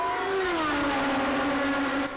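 Grand Prix race car screaming along a track in a close battle with a Ferrari, a loud high engine whine that sweeps downward in pitch as it passes, alone without speech.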